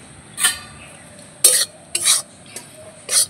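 Wheat flour dry-roasted in a wok, with five distinct scraping strokes of a spoon against the metal separated by near-silence, close and crisp, and no one talking.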